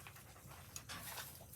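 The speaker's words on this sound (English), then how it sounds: "those are my dogs" Farm dogs pant quietly nearby in short, rapid breathy bursts over a low background hum, faint and steady with no talking.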